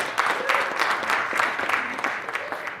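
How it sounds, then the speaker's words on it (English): Applause from an audience at a blockchain meetup in Chicago, a steady wash of many hands clapping close by for close to three seconds. "everybody please give a round of applause for Holly here"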